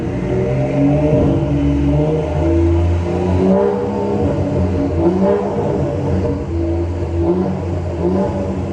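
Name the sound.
modified BMW car engine revving while stationary in a tunnel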